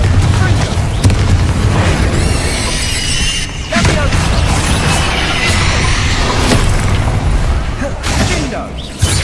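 Confringo fire spell blasts in the Hogwarts Legacy video game, a dense run of loud booming explosions and bursts with crackling debris over a heavy low rumble throughout, under a voice talking.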